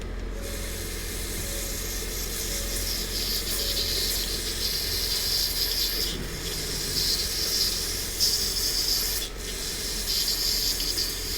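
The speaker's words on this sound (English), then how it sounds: "I'll spray it down with some brake cleaner" Brake cleaner sprayed from an aerosol can onto the filter of a Rinnai RSC160iN tankless water heater, a continuous close hissing spray with brief pauses and a faint wet dripping underneath.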